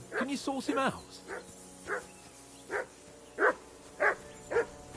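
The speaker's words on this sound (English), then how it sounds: "I assume you can hear that damn dog of yours barking." A dog barks repeatedly in the medieval video game Kingdom Come Deliverance 2, a string of separate woofs and yips at a steady pace, while a voice speaks over the first barks.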